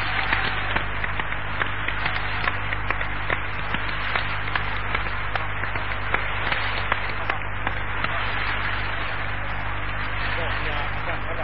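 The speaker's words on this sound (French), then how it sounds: "je demande tous ensemble qu'on se lève et qu'on l'acclame" A crowd at Niger's 1991 National Conference stands and applauds, a dense, steady wash of clapping that fills the room and holds at full strength for the whole stretch without letting up.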